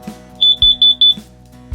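A carbon monoxide alarm inside an Airstream trailer sounds during a test: four sharp, loud, high-pitched beeps in quick succession, with quiet clicks and hum before and after.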